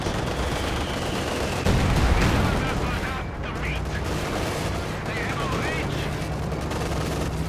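Rapid gunfire and bursts of shooting crackle through a Company of Heroes 2 battle, including a louder thump partway through, under steady talk from a commentator.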